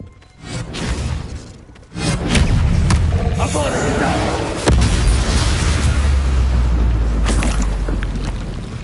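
An Expelliarmus spell cast in Hogwarts Legacy bursts out as a whooshing blast with a booming impact, followed by a sustained, rumbling roar of magical energy and a second sharp hit partway through.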